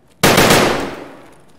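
A single sharp gunshot in the Escape from Tarkov shooter game cracks loudly and close, followed by a decaying echo tail.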